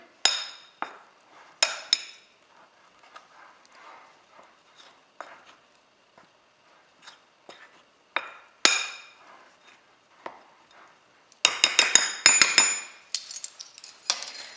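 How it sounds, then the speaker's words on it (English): Raisins are mixed into flour in a bowl, giving a series of sharp clinks and scrapes of a utensil against the bowl, sparse at first then a quick clattering burst near the end. "I'm gonna add my raisin to the flour. And mix all together."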